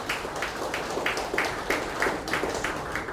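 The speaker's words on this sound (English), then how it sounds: "And we believe he deserves a round of applause." Scattered audience clapping at a PDP Elder Advisory Council inauguration in Bayelsa State, with soft repeated claps in a steady, fairly quiet burst lasting a few seconds and no talk over it.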